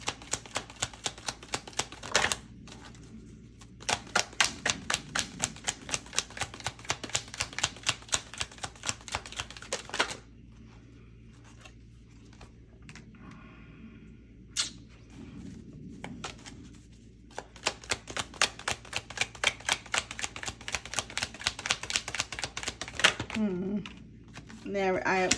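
A deck of tarot cards being shuffled in rapid bursts of crisp riffling clicks, with pauses between rounds and a voice talking over parts of it.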